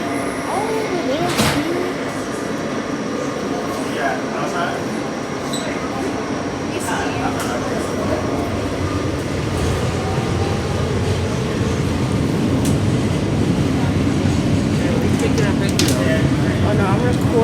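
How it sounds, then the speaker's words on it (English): A New York subway F local train bound for Stillwell Avenue, near Avenue N, hums and rumbles up close, the rolling noise growing denser and louder over time while voices talk over it. "Stillwell Avenue bound F local train"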